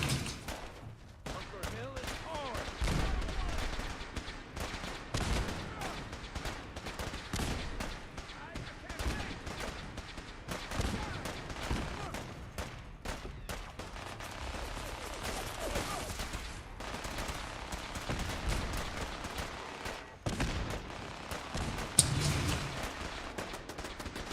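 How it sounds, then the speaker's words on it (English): Rapid gunfire crackles and bursts nearly nonstop in Fallout 4, with enemies shooting through walls, loud overlapping shots under occasional game voices. "You can't stop shooting me through walls."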